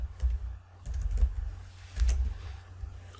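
Computer keyboard typing while entering an XPath query: short bursts of quick, fairly soft keystrokes with brief pauses between them, close by and heard alone.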